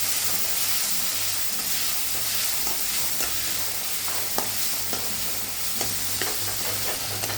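Tomato masala with salt sautés in a pan for masala idli, a continuous close sizzle and hiss broken by repeated scraping stir strokes, with no talking.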